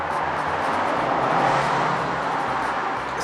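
Continuous low rumble of road traffic going by, a steady wash of engine and tire noise without any voices.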